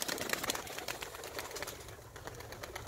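A clipped-wing female play pigeon flaps its wings, a rapid, loud feathery clatter close to the listener that runs steadily through the moment.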